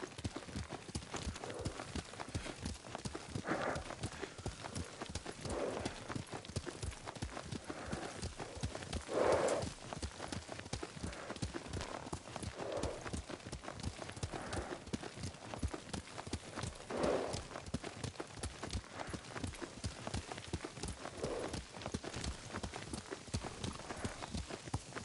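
A horse's hooves clop in a steady galloping rhythm while riding in the video game Ghost of Tsushima, even and fairly faint throughout, with a soft snort or neigh now and then.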